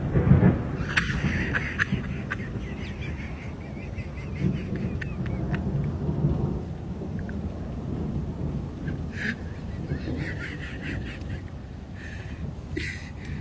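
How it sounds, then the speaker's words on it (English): Thunder rumbles through a thunderstorm, low rolling booms under steady rain noise, fairly faint and distant, with a few sharp faint sounds scattered over it. "Yes, that's a lightning, my friend"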